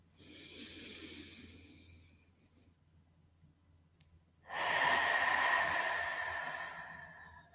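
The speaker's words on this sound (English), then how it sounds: "on the exhale, blowing it out." A slow, deep inhale is followed after a brief pause by a long, loud breathy exhale blown out close to the microphone, with no talking.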